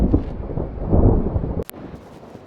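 Thunder rumbles low and heavy through a storm on a camping trip in Yellowstone, swelling and fading over a couple of seconds before a sharp crackle cuts in and the roll dies away.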